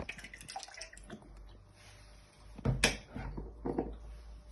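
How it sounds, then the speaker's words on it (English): A brief splash of rice vinegar being poured into a pan, standing out over quiet kitchen background noise with light clinks. "Now you want to add in a splash of rice vinegar,"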